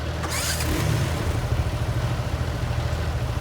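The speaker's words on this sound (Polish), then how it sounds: "Aha, czekajcie, muszę odpalić silnik." Engine of a farm machine in Farming Simulator 19, a bale wrapper rig, cranking and settling into a loud, steady low rumbling idle that continues throughout.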